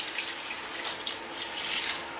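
Water poured into a bowl of pineapple chow, a steady close splashing hiss running the whole time with no talk over it.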